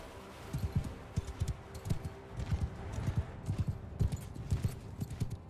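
Horse hooves clip-clop in the Mount & Blade 2: Bannerlord video game, a steady run of close, fairly faint hoofbeats in uneven rhythm, with other hoof sounds layered in the background.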